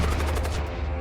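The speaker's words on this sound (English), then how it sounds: "And then get the bolt cannon ready." Bolt cannon firing in the space combat game Void War, a dense one-second burst of loud, sharp blasts in quick succession with a heavy low rumble underneath.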